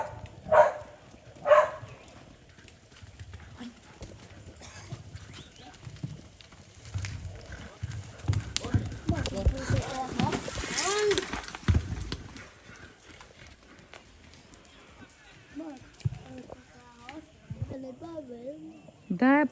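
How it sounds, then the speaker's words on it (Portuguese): Horse hooves clip-clop at a vaquejada training session at a rodeo park, intermittent steps mixed with talking voices, distant shouts and background activity. "É o Carlino, o cavalo do sogro dele."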